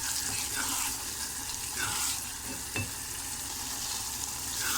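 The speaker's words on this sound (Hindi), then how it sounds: "अब हल्का सा इसको भून लेंगे।" Chopped tomatoes frying in a pan for egg bhurji, a steady close sizzle with occasional stirring scrapes and small pops, continuous and fairly loud, with no talk.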